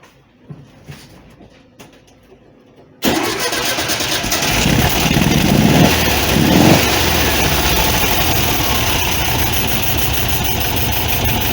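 An air-cooled VW Beetle engine fitted with twin Solex 32 PDSI carburetors cranks briefly and catches, then settles into a loud, steady, slightly uneven idle that runs on close by.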